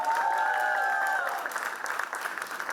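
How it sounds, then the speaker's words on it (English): An audience at a launch event in India claps steadily, a dense wash of applause that fades slightly toward the end, with a brief tonal whistle-like sound early on. "A big round of applause for the tribal farmers of India, everyone."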